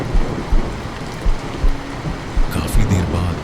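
Heavy rain pours down over a forest during a storm, with dull thunder rumbles and cracks swelling near the end; a steady, loud downpour wash dominates throughout.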